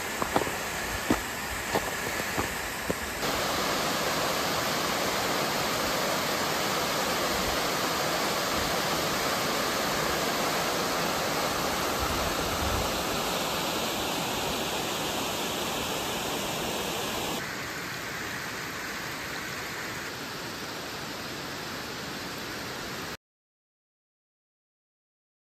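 The Chikuma River rushing past amid lingering snow, a loud, steady broadband roar of flowing water that holds constant for about twenty seconds before cutting off.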